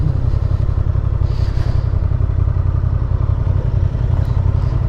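A Honda XL750R Transalp motorcycle runs on a test ride, its engine a steady low rumble under heavy wind buffeting, loud and continuous throughout.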